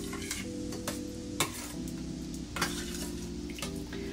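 Pepper steak with pimento seed being stirred in a pot, a steady low simmer and sizzle running underneath while a spoon scrapes and clinks against the metal at intervals, close and moderately loud, with no talking.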